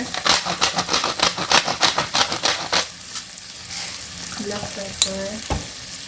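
Vegetables sizzle in a stir fry while being tossed, a rhythmic run of scraping stirs over steady frying hiss, then the stirring stops and a softer sizzle continues with a few light clinks.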